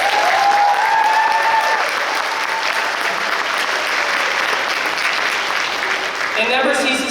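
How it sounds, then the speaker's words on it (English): Audience applause at a high school graduation ceremony: sustained, loud clapping from a large crowd that fills the whole stretch, with a voice briefly audible over it near the end. "You don't need to clap."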